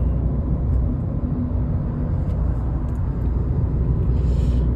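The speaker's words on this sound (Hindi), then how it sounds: "बिहार की गाड़ी जा रही थी।" A car passes on a highway during a road trip, a steady low rumble with broad road roar that holds close and fairly loud throughout, with no voices.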